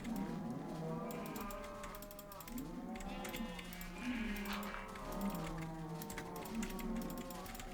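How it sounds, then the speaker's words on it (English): Several loud cows moo repeatedly in a video game farm area, their long lowing calls overlapping one after another over a steady game background with faint hoof-like clopping. "I also realize how much I hate this area because cows are so loud in this version"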